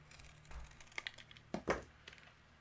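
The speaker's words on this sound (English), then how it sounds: "just trim it a little bit more." Scissors trim a small piece of paper for a stamped Christmas card, a few soft crisp snips and paper crinkles close by, with the two strongest cuts near the end over a quiet low hum.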